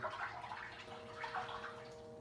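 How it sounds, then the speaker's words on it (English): Hot water runs steadily from a tap into a sink with the plug in, a continuous hissing splash with no speech. "So I've got hot water in the sink."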